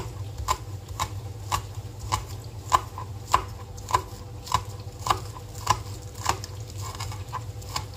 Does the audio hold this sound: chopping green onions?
yes